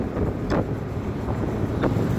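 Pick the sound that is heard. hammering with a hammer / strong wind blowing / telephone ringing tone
strong wind blowing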